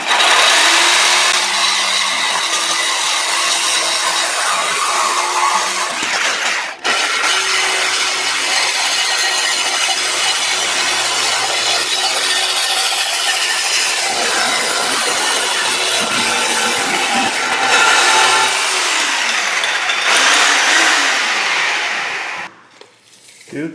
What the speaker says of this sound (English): Let's get the Sawzall, chop it off, chop off that side